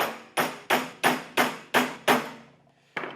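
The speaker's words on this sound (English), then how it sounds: "this takes a lot of force, so I need to tighten the vise" A vise holding a Mittler Brothers punch and flare die is tightened with six sharp, evenly spaced knocks, a short pause, then one more. The knocks are close and loud, with no voices.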